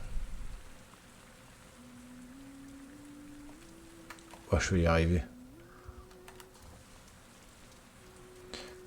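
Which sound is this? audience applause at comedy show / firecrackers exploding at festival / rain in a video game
rain in a video game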